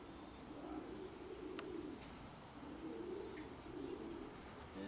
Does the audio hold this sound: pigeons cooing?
yes